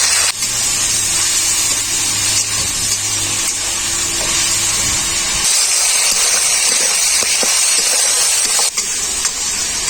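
Ground turmeric, cumin and red chili powder with a splash of water sizzle hard in hot oil while masala is fried, a loud steady hiss that carries through without pause.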